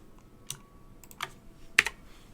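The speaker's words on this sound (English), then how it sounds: "And let me just type those in real quick." Quick taps on a computer keyboard come in short, irregular bursts of clicks, close and fairly quiet in a calm room.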